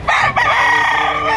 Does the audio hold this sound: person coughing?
no